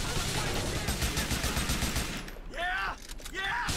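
Rapid automatic gunfire in GTA IV rattles loud and close for about two seconds, then gives way to shouting voices.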